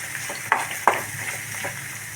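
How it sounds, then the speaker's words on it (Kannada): Salt, chili powder and turmeric frying in hot oil while being stirred, a soft steady sizzle with two sharper scrapes of the spoon near the start. "ಈಗ ಇದೆಲ್ಲ ಫ್ರೈ ಆಗೈತೆ ಎಣ್ಣೆಗ"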